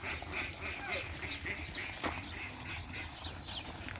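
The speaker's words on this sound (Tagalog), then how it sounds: "Dami diyang itik, oh." Ducks quacking outdoors in a park setting, several calls scattered over a steady background hum, moderately distant and not loud.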